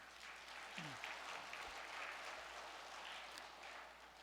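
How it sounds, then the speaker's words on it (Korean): Steady applause from a church congregation at a year-end worship service, thanking an association; a continuous even wash of many hands clapping at moderate distance, with a brief low thump partway through. "협회에 감사의 박수를 보내 올리겠습니다"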